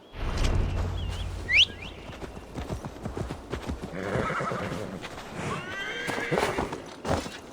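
Horse in Assassin's Creed Valhalla, galloping hooves clopping steadily and close while a sharp, high whinny rings out early on; birds chirp faintly in the background.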